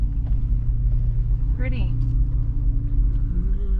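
An off-road vehicle's engine rumbles steadily and deeply while driving on a rough trail, a continuous low drone with people talking briefly over it.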